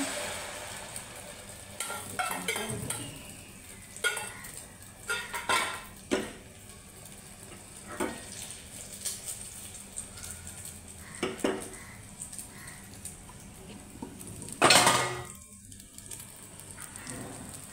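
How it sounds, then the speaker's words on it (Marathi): Beaten egg omelette mixture pours into hot oil and fries with a soft, steady sizzle, joined by scattered clinks and scrapes of a utensil against the pan and one louder splashy burst. "तेल गरम झाल्यानंतर मग हे फेटलेलं मिश्रण त्याच्यामध्ये ओतून घेऊया"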